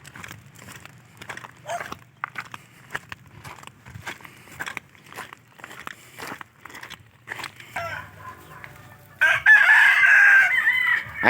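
Chickens cluck in quick bursts nearby, then a loud rooster crows near the end, ringing out over the softer clucking.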